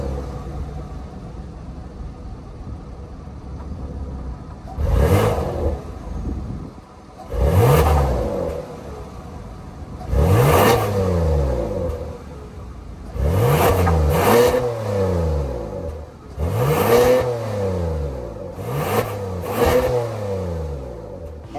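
A 2023 Hyundai Palisade XRT with its naturally aspirated 3.8 liter V6 revs repeatedly, about seven sharp loud blips rising and falling over a steady idle, each spaced a couple of seconds apart and heard up close without talk.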